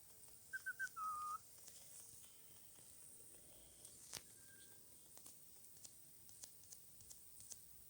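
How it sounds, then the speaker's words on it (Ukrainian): A Roblox Evade character whistles a short tune of a few quick notes and a held one early on, faint and isolated against near silence with light clicks afterward. "Я могу свистеть."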